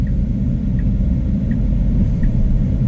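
A Tesla running FSD Beta 10.4 on San Diego streets pulls forward under acceleration, heard as a steady low interior rumble of road and drivetrain noise, close and constant with no talk.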